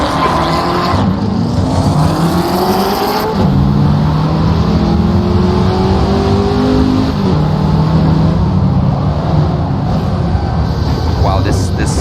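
A race car engine in a sim racing video game screams loudly and continuously, its pitch climbing and dropping through gear changes, with brief tire squeal.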